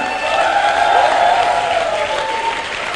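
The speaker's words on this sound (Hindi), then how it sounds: "जोरदार तालियां" Loud, sustained clapping from an audience at a business networking seminar, steady and dense throughout with faint voices mixed in.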